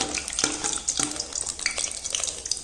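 Sabudana chips deep-fry in oil over a medium flame, giving a close crackling sizzle with bursts of popping and a few light stirring clicks.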